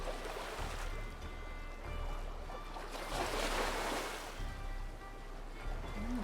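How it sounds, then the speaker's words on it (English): Ocean waves in the video game Nancy Drew: Sea of Darkness roll in as a loud, continuous surf wash that swells and recedes over a low hum, with no talking. "Oh, the waves are so damn loud."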